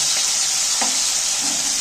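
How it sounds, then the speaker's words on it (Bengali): Tomatoes fry in a pan for a spinach paneer curry, a loud, steady hissing sizzle heard close, broken by one or two quick spatula scrapes. "টমেটোটা কিন্তু ভাজা হয়ে গেছে"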